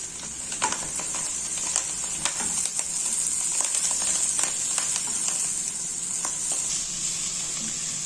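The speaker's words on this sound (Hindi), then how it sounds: "ये हमने मेथी को सिर्फ 2 मिनट फ्राई कर लेना है" Fresh fenugreek leaves frying in a pan, a steady close sizzle and hiss with scattered crackles and pops, plus occasional scraping of stirring.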